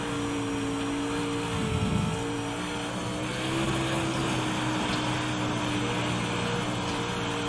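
Pro Late Model race car engine droning steadily through a qualifying lap at Charlotte, a loud continuous motor tone with slight pitch shifts as the car is pedaled around the track, no talk.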